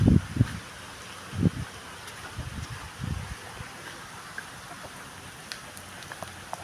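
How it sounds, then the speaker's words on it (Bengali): Rain falls in a Chittagong village, a steady soft patter on surfaces with a few low rustling thumps near the start, faint and continuous. "খুব জোরে বৃষ্টি চলে আসতেছে।"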